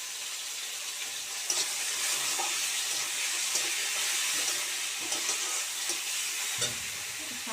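Tomatoes fry in a hot pan with a steady, bright sizzle, broken by a few scraping stirs and clinks of the spatula near the end.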